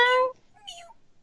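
A person imitates a cat's meow with one short, close vocal call and a second thinner, rising meow-like note after a brief pause.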